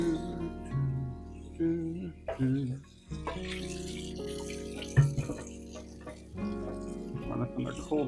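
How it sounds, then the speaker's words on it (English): A hot pan is rinsed under a running cold tap, with water splashing and hissing softly while someone talks over it and background music plays. "Run this under cold water so I don't touch a hot pan and burn myself."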